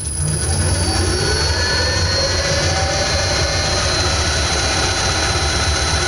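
Wood lathe spinning a pomander blank at high speed, a steady loud whir with a constant tonal hum running unbroken throughout, no voices.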